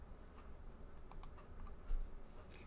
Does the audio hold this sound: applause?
no